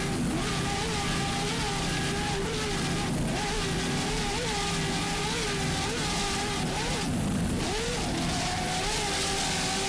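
An offshore racing powerboat from the WHM Motorsports team, Mr. Green, running at speed through big swells off St. Petersburg, its loud engine droning and shifting continuously with no one speaking.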